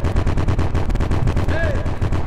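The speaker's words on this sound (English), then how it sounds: "Who's banging on the door?" Rapid, repeated banging on a door inside a Roblox game, a dense run of hard impacts lasting the whole stretch, loud and close with game sounds rising over it near the end.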